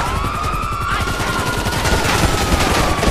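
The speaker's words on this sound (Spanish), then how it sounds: "aquí está disparando" Dense, continuous gunfire from GTA V Online, with overlapping shots forming a steady fusillade, loud and close, and a faint tonal whine running through the background.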